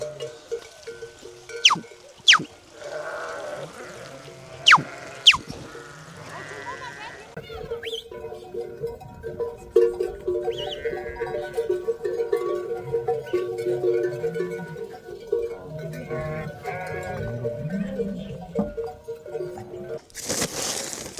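A flock of sheep in a rural pasture, scattered bleats and a faint cowbell mixed with occasional sharp knocks, distant and soft under steady background sound and some talking.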